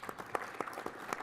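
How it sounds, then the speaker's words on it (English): Faint applause from an engineering awards audience for the jury members, a thin scatter of individual claps heard at a distance and quite quiet, with no talking. "I'd like you to give a really big round of applause to each of the members of our jury today"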